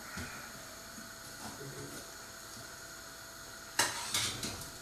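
Pasta sauce being stirred in a pan, a soft scraping and bubbling hiss throughout with a few sharper utensil knocks near the end.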